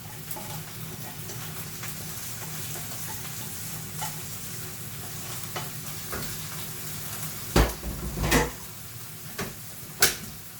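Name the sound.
spinach frying with onions in a pan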